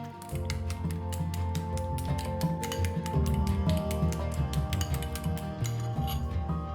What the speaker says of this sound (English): in a separate bowl, we are going to crack in our eggs and whisk them together. Or in this case, use a fork to mix it together